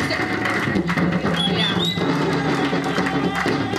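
Church congregation cheering and acclaiming during a worship service, a dense crowd roar with shouts and claps filling the space continuously, with music and a few higher voices rising over it.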